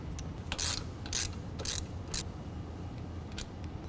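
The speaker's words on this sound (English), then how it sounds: "You're going to need a 13mm socket and remove this factory bolt in the front." A ratchet fitted with a 13mm socket clicks in quick bursts while a factory bolt is loosened on a 2015 Jeep JK, heard close and fairly quiet over a low background hum.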